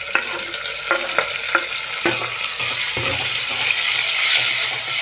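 Onion and tomato frying in a pan for a poori sagu, with a continuous sizzle under sharp scrapes and clanks of a spoon stirring against the metal, close and fairly loud.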